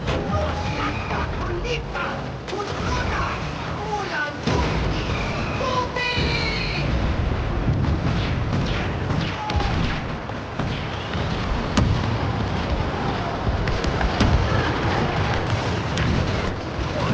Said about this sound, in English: Enemy rocket on target!